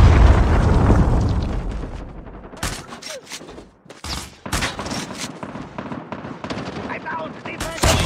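Shooter game combat with rattling automatic gunfire and a predator missile explosion: a big rumbling blast fading over the first seconds, then sharp bursts of shots and impacts resuming loudly, with no talk.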